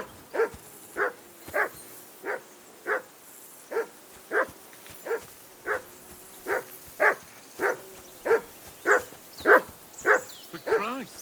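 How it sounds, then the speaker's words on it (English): A dog in the medieval role-playing game Kingdom Come: Deliverance II barks repeatedly at a steady, regular rhythm, about sixteen sharp close barks growing slightly louder and quicker toward the end. "Call off that damn dog before he wolfs down the last of our meat."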